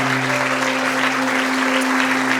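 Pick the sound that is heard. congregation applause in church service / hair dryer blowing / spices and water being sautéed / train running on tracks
congregation applause in church service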